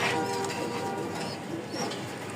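Pigeons coo softly at a pigeon farm where the birds sit with their chicks, a low steady murmur of calls running through the whole stretch over a constant background hum.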